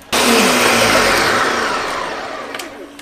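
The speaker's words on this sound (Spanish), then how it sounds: "Las vamos a licuar juntamente con los chiles. Aquí, con los chiles y los jitomates. Vamos a licuar todo esto." A blender runs at full power on chiles and tomatoes for a Mexican red mole, a loud steady whir starting abruptly and slowly easing in pitch as the mixture smooths, with no talk.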